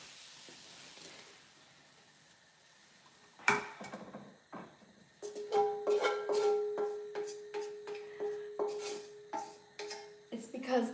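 A wok is handled and tested on a stove: a sharp metallic bang, then a run of rhythmic clanging strikes and scrapes with ringing metal tones over a low hiss, close and fairly loud.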